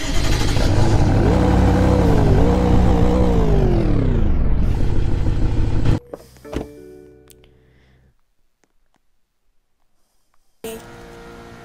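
An old BMW car engine revs hard and loud for several seconds with rising and falling pitch, then drops off abruptly into near quiet with a few faint clicks, and a brief burst of engine noise returns at the end.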